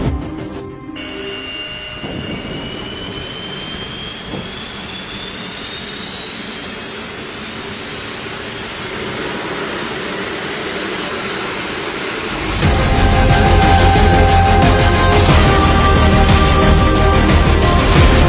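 Kızılelma unmanned fighter jet engine starting up, a rising turbine whine that climbs steadily for about twelve seconds before jumping into a louder, broad roar, loud and close.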